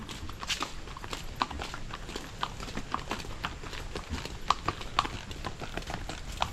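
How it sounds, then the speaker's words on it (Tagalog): A horse's hooves clip-clop steadily along a road, with sharp regular knocks over background rumble, close by, with faint voices now and then. "Ganda nung kay Bombay na kabayo, ano?"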